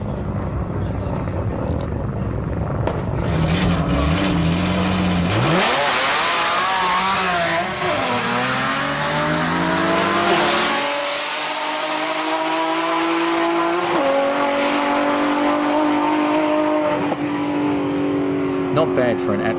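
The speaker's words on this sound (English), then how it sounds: "This Z32 has been running at Sendai for a couple of years now, with a naturally aspirated VG30 engine and 6-port nitrous system." A Z32 drag car with a naturally aspirated VG30 engine and six-port nitrous at a Japanese drag strip, loud engine howling and climbing through gear changes, with rising pitch sweeps and a brief drop in between, close and continuous.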